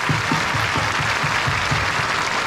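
Dense, steady applause from a live concert audience, filling the whole stretch at close range with a faint rhythmic pulse underneath.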